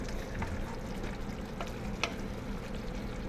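Meat pie filling is mixed to work in the starch, giving a soft steady sizzle and stir with a few faint clicks from the utensil. No one speaks.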